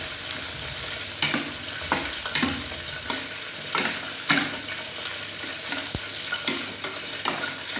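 Tofu fries with spices in a pan while a utensil stirs it, sharp scraping strokes repeating every second or so over a steady close sizzle.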